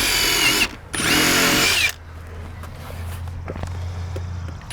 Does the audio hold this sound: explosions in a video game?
no